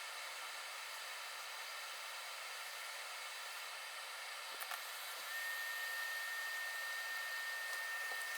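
A heat gun set to 380 °C with 80% airflow blows a steady close hiss of hot air while a metal shield is lifted off an iPad 10 board, with a faint click midway and the airflow growing slightly stronger toward the end.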